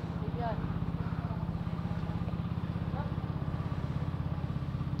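A small engine idles with a rapid, steady putter close by, while voices talk briefly over it.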